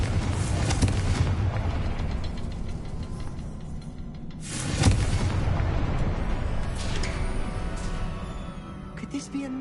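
A fiery Confringo spell explosion in the Hogwarts Legacy video game: a heavy rumbling blast that opens the clip and a second booming burst midway, both sustained and loud, amid continuous low game ambience.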